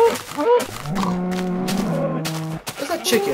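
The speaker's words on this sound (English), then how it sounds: "Cow!" A cow in the video game Minecraft gives one long, loud, close moo lasting a couple of seconds, with short game noises before and after.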